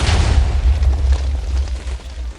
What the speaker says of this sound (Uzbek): shader rejimda eng kuchli 3-darajali TNTlarni portladik.